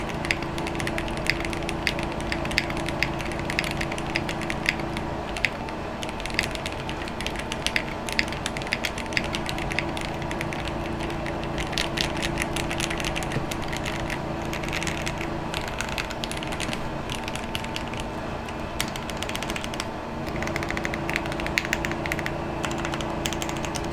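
A tape-modded Zoom TKL mechanical keyboard is typed on continuously, producing a steady stream of muted, thocky keystrokes at close range with no talking.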